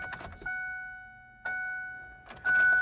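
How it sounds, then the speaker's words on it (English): An electric fuel pump runs in a Mazda B4000 pickup fitted with a swapped LT1 350 small-block Chevy V8, giving a steady, thin whine that drops out briefly, with clunks and rattles at the start, middle and end. "I can hear the pump running still."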